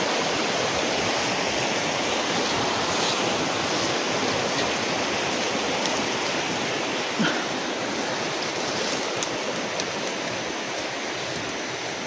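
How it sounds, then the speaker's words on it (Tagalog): Water rushes loudly and continuously outdoors on a mountain trail, a dense steady roar like a stream or waterfall, close and unbroken with no voices. "Ang tubig na naman dyan."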